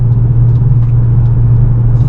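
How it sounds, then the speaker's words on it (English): Steady low road rumble with a strong droning hum and a soft wash of wind noise from inside a moving Toyota Chaser JZX100, constant throughout, no voices. "You don't hear the exhaust. It's just you hear some road noise and some wind noise."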